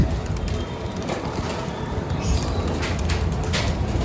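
Racing pigeons circle a loft after a week without flying, heard as steady outdoor noise with soft cooing and faint wing flutters mixed into a constant ambient background.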